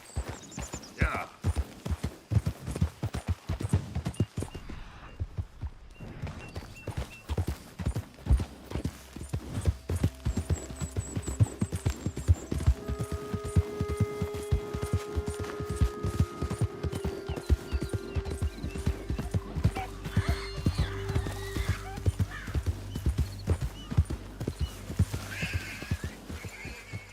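Horse hooves clip-clop steadily through Red Dead Redemption II gameplay, with an occasional whinny, under a low musical hum and bits of voices.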